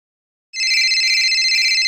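A telephone rings on an outgoing call to the electricity department, a steady electronic ring that starts abruptly after a half-second of silence and continues loud and alone.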